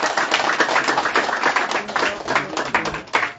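A church congregation claps in a steady, fairly even rhythm of many hands, moderately loud and close, with a faint voice underneath.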